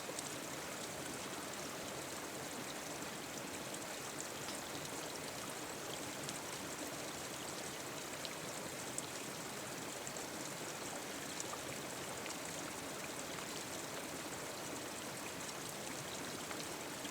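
A mountain creek in Kananaskis Country in the Canadian Rockies rushes steadily over rocks, a dense, even wash of flowing water that fills the whole stretch with no voices.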